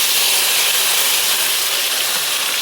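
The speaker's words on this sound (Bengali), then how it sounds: "এখানে দিয়ে দিচ্ছি টমেটো আর পেঁয়াজ কুচিটা।" Chopped tomato and onion hit hot oil in a wok with cumin, making a loud, even, continuous hiss of sizzling that holds steady throughout.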